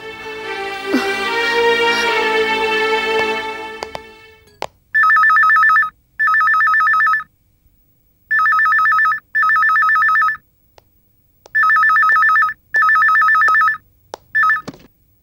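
A telephone rings loudly in a Telugu TV serial scene, sounding in several paired bursts with short pauses between them, after a stretch of dialogue and music that fades out before the ringing starts.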